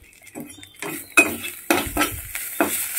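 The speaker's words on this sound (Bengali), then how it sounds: "নিম পাতা ভাজছি অনেক দিন পর।" Neem leaves frying in oil in a metal pan on a home stove, a soft sizzle broken by about six sharp clinks and scrapes of a spatula stirring against the pan, close and distinct.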